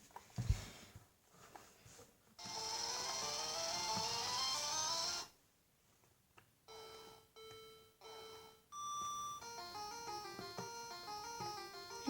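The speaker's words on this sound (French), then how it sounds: "Donc là, je vais faire un jeu de voiture." A retro console car racing game plays bleepy electronic tones: a long buzzing drone, then short repeated beeps and a chiptune-like melody of stepped tones, with brief gaps between.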